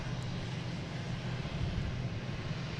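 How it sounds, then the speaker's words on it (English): A JetBlue Airbus A321neo airliner near Boston Logan, heard as a faint, distant, steady engine rumble without voices. "JetBlue flight 1620, heading to London Heathrow, an A321neo"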